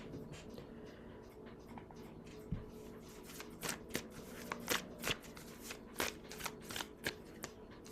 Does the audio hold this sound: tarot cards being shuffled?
yes